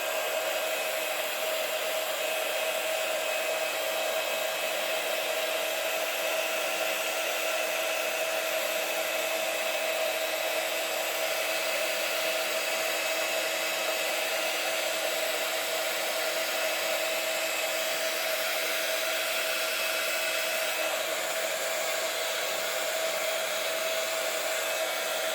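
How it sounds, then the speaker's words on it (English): An embossing heat tool blows hot air as a steady, unbroken whirring hiss with a faint tonal whine, close and constant, used while making stenciled autumn cards. "Always make sure you heat up your tool properly before you put it onto the image."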